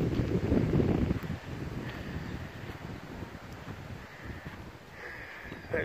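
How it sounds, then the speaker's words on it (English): Gusty wind buffets the microphone on a sandy beach, loud low rumbling at first and then softer steady blowing with faint rustle, with no voices. "Kind of windy out here."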